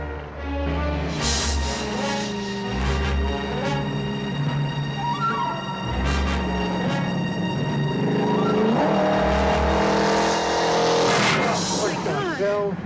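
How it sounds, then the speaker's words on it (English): A car drives by on a dark road at night, its engine loud and close as it passes and returns, with tire noise and swelling engine sweeps against a constant rumble. "I think the car's following us."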